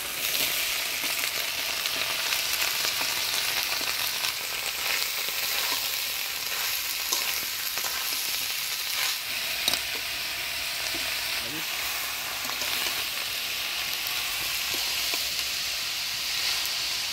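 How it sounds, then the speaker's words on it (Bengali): Chopped bottle gourd sizzles steadily in a spice tempering of dried chilli, cumin, bay leaf and ginger paste, with a hissing, rain-like fry throughout and occasional soft stirring scrapes, no voices. "হলুদ লবণ দিয়ে লাউটা নাড়াচাড়া করে নিলাম"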